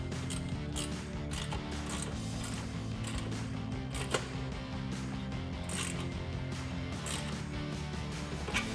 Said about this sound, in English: I'm going to take my 8 millimeter Allen and my 3/8 ratchet and tighten it up.